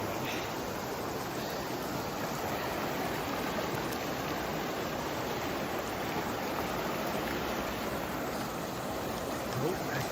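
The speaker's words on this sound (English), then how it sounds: "This would be the Animus River right here." The Animas River near Silverton, Colorado, rushes in a constant broadband wash of flowing water that stays even from start to finish.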